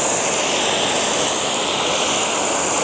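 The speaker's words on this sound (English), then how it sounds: "So I'll jet wash the roof." Pressure washer jet-washing the roof of a VW Transporter van, a loud, close, continuous hiss of high-pressure water spray with no pauses.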